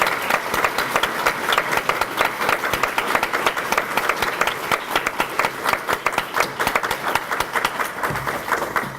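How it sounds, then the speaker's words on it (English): A banquet audience claps continuously and steadily, with dense, even applause that holds throughout and thins slightly at the very end. "Would you please give them a round of applause?"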